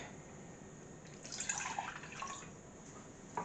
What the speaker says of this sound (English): okay, all of the milk, the butter and the flour into the saucepan